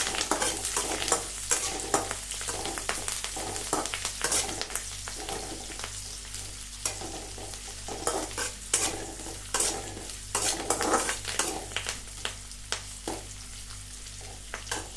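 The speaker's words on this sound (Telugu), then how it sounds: "ఇప్పుడు ఉల్లిపాయ వేసేసుకోవాలండి. ఇదంతా బాగా కలుపుకోవాలి." Chopped onion with curry leaves stirred and fried in a pan for a ridge gourd rice dish, a steady close sizzle broken by frequent spatula scrapes and clinks against the metal, with no talking.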